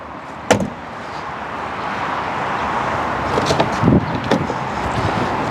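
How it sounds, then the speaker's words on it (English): A Tesla Model Y door shuts with one sharp thump near the start, followed by faint knocks and shuffling over a steady broadband hiss inside the car. "And the door will shut."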